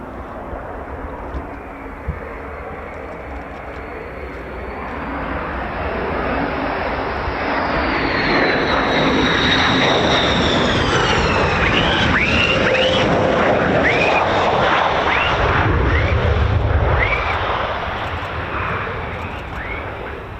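A US Air Force F-15 fighter jet takes off at RAF Lakenheath, its roar swelling from a distant rumble to a loud, sustained blast with a sweeping whine, while a voice talks faintly over it.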